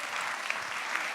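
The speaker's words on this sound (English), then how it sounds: "please give a warm applause to Spencer" Steady applause from a live tech-talk audience in Amsterdam, a dense even patter of many hands clapping without pause across the whole stretch.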